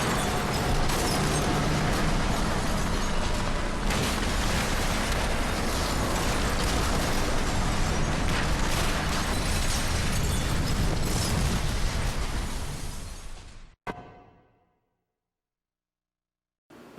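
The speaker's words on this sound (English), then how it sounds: "That explosion didn't look like a victory to me, but okay then." A loud, sustained in-game explosion from the video game Turning Point roars at full strength for about thirteen seconds, then cuts off abruptly to near silence, with a brief faint tail afterward.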